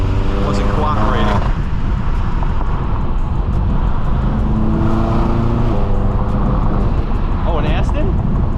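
Stage 2 tuned 800HP BMW M6 drives hard, its engine droning loud and close with rising and falling revs and tonal harmonic sweeps, held steady throughout.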